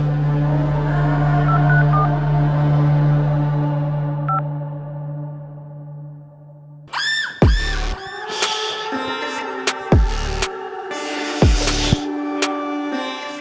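A telephone is dialed in a Kannada comedy short film scene: a low steady hum gives way to a quick series of close, clear keypad tones and beeps.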